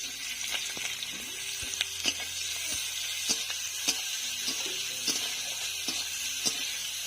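Sliced onions fry in oil with dried red chillies and three slit green chillies, making a steady close sizzle punctuated by sharp pops and crackles at irregular intervals.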